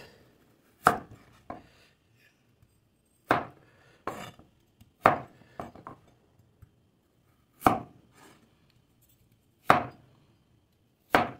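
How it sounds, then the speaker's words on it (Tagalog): A knife chops taro root and vegetables for sinigang on a board, producing sharp, separate knocks that come singly and in quick pairs at an irregular pace, close and crisp over a quiet background. "Hiwain na natin"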